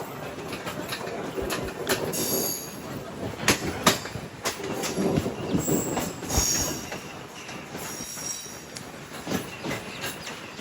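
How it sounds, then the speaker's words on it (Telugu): A MEMU express train rolls into Uppugunduru station close by, wheels clacking and squealing against the rails, with irregular metallic clanks and hissing as it slows. "ఇప్పుడు మన ట్రైన్ ఎంటర్ అవుతున్న ఉప్పుగుండూరు"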